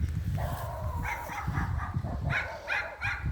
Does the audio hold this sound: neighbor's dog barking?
yes